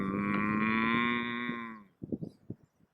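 A person imitates a cow's moo with a single long, loud, sustained vocal tone, followed by a few short breathy bursts of laughter-like sounds.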